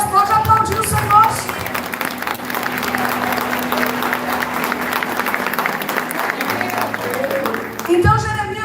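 Sustained applause from a church congregation, a dense, steady wash of clapping that runs throughout, with voices mixed in under it.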